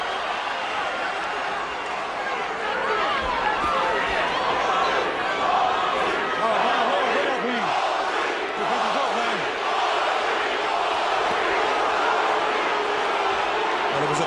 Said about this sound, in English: the Mosley followers letting themselves be heard